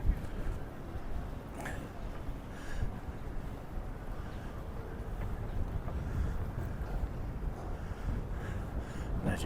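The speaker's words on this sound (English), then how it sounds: "the wind is really blowing and making it feel quite exposed" Steady strong wind buffeting the microphone on a London pedestrian bridge, a continuous low rumbling roar with gusty swells throughout and no talking.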